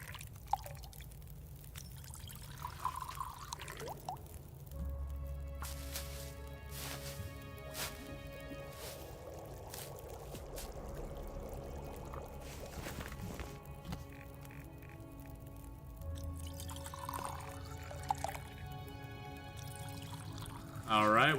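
Water being poured in the survival game The Long Dark, a soft trickle and drip that comes and goes at low level over quiet background tones, with a voice talking at times.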